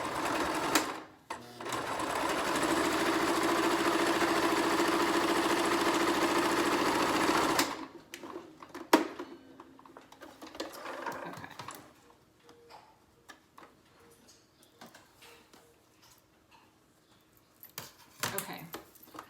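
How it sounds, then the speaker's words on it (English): A sewing machine runs steadily for about seven seconds while stitching a homemade fabric face mask, a close, even whir that then stops, followed by scattered clicks and fabric handling with light speech. "I'm gonna run the sewing machine down this as well"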